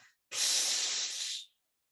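A group of people exhales together during a Tibetan breathwork session, one sustained, forceful breathy hiss lasting over a second, close and loud, then silence.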